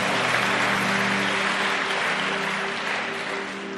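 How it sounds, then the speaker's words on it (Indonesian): An audience at a pastor's sermon applauds in a continuous, loud wash of hand claps that stays steady and then eases off slightly near the end. "Terima kasih buat tepuk tangannya"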